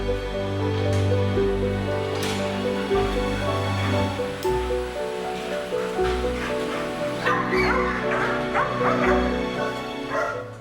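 A thin, caged military dog barks and yips repeatedly up close, with whimpering cries between the barks over a steady background rumble.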